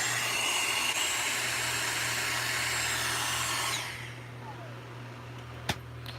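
A loud Dyson vacuum cleaner runs with a broad, steady roar and hum, then its airflow noise drops off partway through as it winds down, leaving a low hum and a single click.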